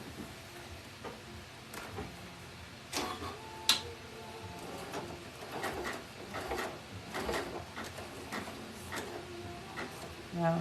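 A domestic sewing machine stitching back and forth over a fabric clothesline coaster, giving a quiet, continuous mechanical ticking and clicking with a few sharper knocks, close but low in level.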